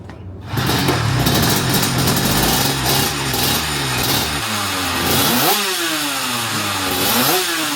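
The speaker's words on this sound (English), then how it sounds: "it was time to start the engine up and get it ready for the next session." A superkart engine at Assen fires up after a short silence and keeps running loud and close, blipping and revving repeatedly in rising and falling sweeps as it warms up, with no voices.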